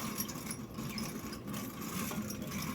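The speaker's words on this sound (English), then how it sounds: "we got our mixer, and I'm going to mix it well" An electric mixer whirs steadily through ice cream base of milk in a vintage ice cream maker, a continuous close motor drone with a faint rattle and no pauses.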